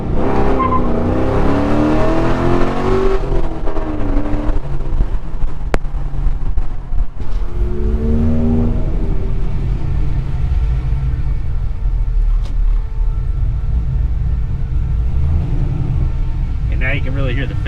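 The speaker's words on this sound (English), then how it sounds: "And now you can really hear the fan. That thing is just going." A BMW E36 with an LS V8 swap revs hard, then settles to a loud steady drone while an electric cooling fan whirs continuously underneath, close up, with someone talking over the noise.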